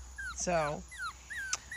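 A young puppy in a litter gives a short whimpering yelp with a wavering, stacked-harmonic cry, followed by softer squeaky whines, with a person speaking briefly over it.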